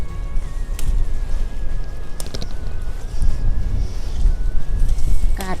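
Wind gusting against a handheld camera outdoors in a vegetable garden, a continuous low rumble that swells and buffets under a thin whistling tone.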